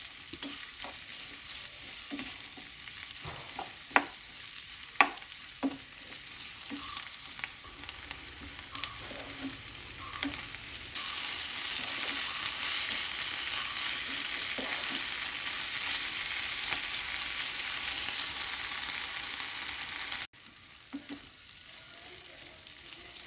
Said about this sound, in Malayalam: പച്ച ചുവ പോകുന്ന വരെ ഒന്ന് വഴറ്റിയെടുക്കാം